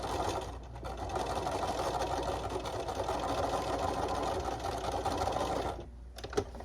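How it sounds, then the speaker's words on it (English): Sewing machine stitching across the pieces of a trick-or-treat bag, a steady close whirring run of several seconds that stops near the end, followed by brief clicks. "Okay, so I'm just sewing across all these,"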